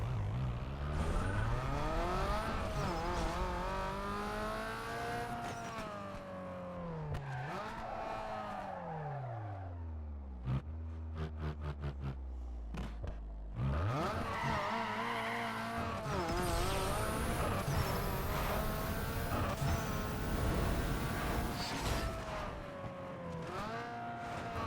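A tuned car engine on a dyno run in the video game Need for Speed Underground 2, revving up through repeated rising gear pulls with a brief lull midway, loud and continuous, with no talking.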